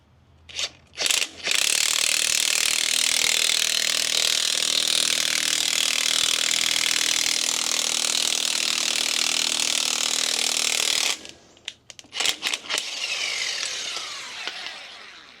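A nut being tightened with a ratchet to draw a ball joint through on a Kenworth cabover truck: close, loud, rapid continuous clicking for about ten seconds, then short bursts of ratcheting.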